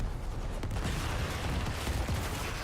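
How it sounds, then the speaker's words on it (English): Corpse explosions in Diablo 4 go off as a dense, continuous barrage of overlapping blasts and crackles, loud and sustained with no pauses across the whole stretch. "Do you see how slow the corpse explosions are?"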